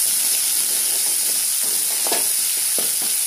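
Ginger garlic paste sizzles steadily in a hot pan for fish poriyal, a continuous frying hiss with a few brief scraping stir strokes, close and moderately loud, no voices.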